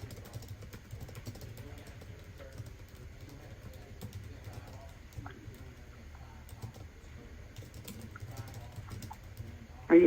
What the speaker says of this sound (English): I'm just typing what you're telling me.